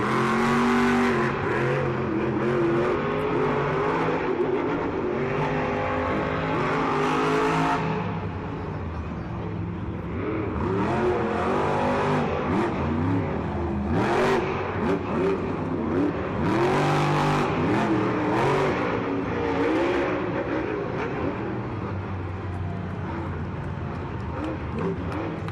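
Monster Jam monster trucks, including Megalodon, roar and rev in a racing matchup at a packed stadium, with dense continuous engine noise, rising and falling revs, and an announcer's voice over the top.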